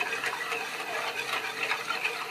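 Sugar is stirred into hot milk in a pan for custard, a soft continuous scraping and swishing heard close up with no talking.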